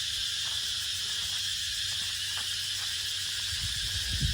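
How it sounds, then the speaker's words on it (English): Cicadas buzz in a steady, high-pitched, continuous drone from the jungle undergrowth, with no break across the stretch, and faint low rustling underneath. "The undergrowth with all the cicadas."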